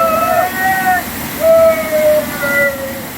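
The waterfall at Kanthalloor pours with a loud, close, continuous rush, and thin whistling tones come and go above it.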